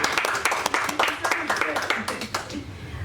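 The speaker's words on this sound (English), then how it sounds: "You guys can clap for her." A school board meeting audience applauds a board member, with steady overlapping hand claps throughout and a voice speaking over the clapping.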